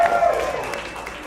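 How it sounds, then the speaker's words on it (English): A live audience crowd booing, a broad, sustained roar of many voices that fades slightly toward the end, fairly loud and close. "the crowd booed that"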